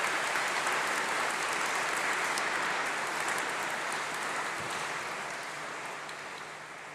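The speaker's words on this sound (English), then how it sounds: "Can you join me in applause?" Sustained applause from a graduation audience in the Great Hall fills the space, a dense, even wash of many hands clapping that slowly fades toward the end.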